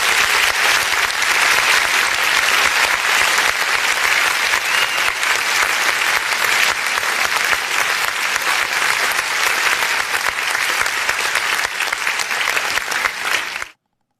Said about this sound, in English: we want to give her an applause